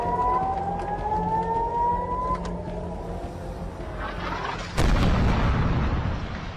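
Air raid sirens wail across Israeli border villages as a warning of rocket attacks from Lebanon, a long rising and falling tone under dense rumbling noise that swells louder near the end.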